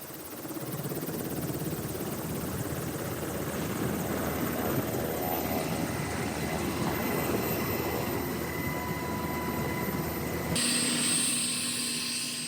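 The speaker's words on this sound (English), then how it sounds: "that was our ride there, that Black Hawk helicopter" A Black Hawk helicopter flies over mountains near Culiacan, its rotor and engine roar loud and steady throughout, with a brief shift in tone near the end.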